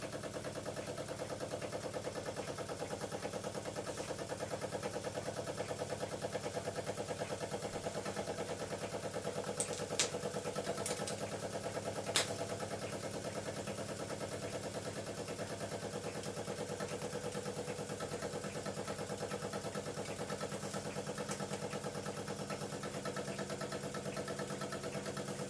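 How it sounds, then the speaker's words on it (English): A Jensen 70 toy steam engine runs steadily at full throttle, giving a constant, even mechanical whir and hum with a few faint clicks, heard alone at low level. "Certainly revs at full throttle."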